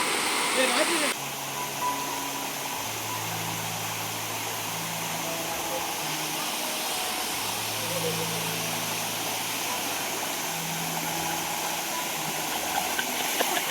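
Steady broadband rush of a waterfall at Manjolai fills the scene, loud and constant, with voices talking underneath throughout.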